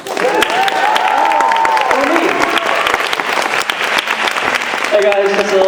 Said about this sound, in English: So give a warm round of applause for